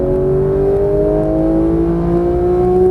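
A Porsche 991.1 GT3 pulls hard under throttle on a racing circuit in Las Vegas, its engine note loud, close and steadily rising in a continuous howl, with no break for a shift shown.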